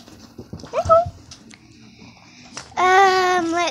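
A dog whimpering close by indoors: a loud, sustained, wavering whine near the end, after a stretch of a person's voice and scattered household noise.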